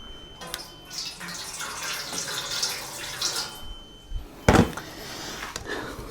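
Hot water is poured into a pot while cooking pork kare-kare, a light splashing trickle against kitchen clatter, with a sharp knock or thud near the end.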